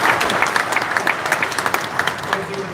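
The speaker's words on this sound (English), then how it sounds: "one more round of applause" An audience at the FlightSimExpo livestream claps in a steady round of applause, with someone talking over the clapping.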